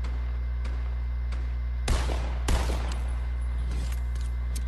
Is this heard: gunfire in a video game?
yes